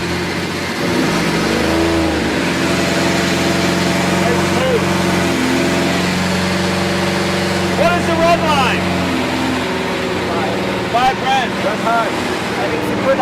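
A 12-cylinder car engine idling with a steady low rumble throughout, close and continuous, as people talk over it.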